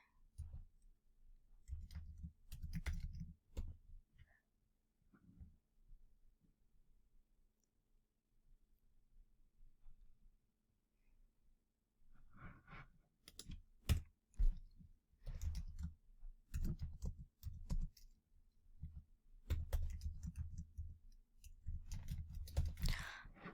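Bursts of rapid keyboard clicking come in two spells separated by a quiet pause, with the second spell denser and busier, close and moderately loud.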